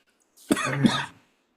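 A single close cough burst, harsh and loud, lasting under a second, with silence before and after.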